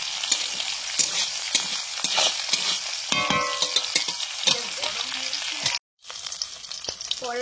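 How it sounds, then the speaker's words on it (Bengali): Sesame seeds and cashews crackle and sizzle as they lightly fry in a pan, with spoon knocks and scrapes, a short break in the sound near the end and a faint voice in the background. "হালকা একটু ভেজে নিচ্ছি।"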